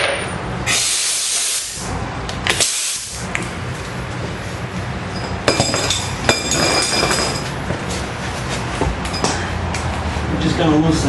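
Wrench work on the 17mm ball joint bolts and nut of a 1995 Toyota Corolla, metallic clinks and ratchety clanks over a loud hissing background, with someone talking intermittently.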